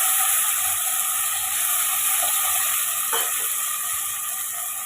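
Brinjal and drumstick pieces sauté in a hot pan for a tamarind curry. They give a steady, even sizzle and hiss close by, with a brief clink partway through and no voices.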